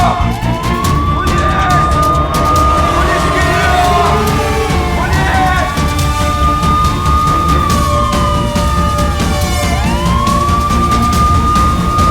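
A police car siren wails loud and continuous, its rising and falling tones repeating over heavy road and crowd noise throughout.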